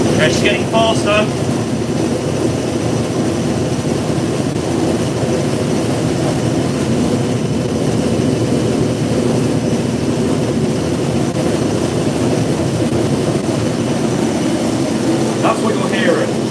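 A Hotpoint 9530 washing machine spins up with bedding inside, giving a continuous loud whirring rumble close by, steady throughout with a few faint clicks near the start and end.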